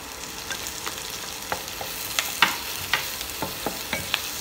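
Garlic and a handful of curry leaves fry in butter for Chinese-style butter chicken, a continuous sizzle punctuated by regular light clicks and scrapes as a spoon stirs the pan, no speech.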